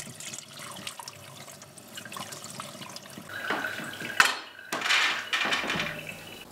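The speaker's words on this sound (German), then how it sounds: "Dann werden sie in klarem Wasser gewaschen." Pumpkin seeds are washed in clear water, a steady splashing rush that swells into louder sloshing surges toward the end, close by and with no talking.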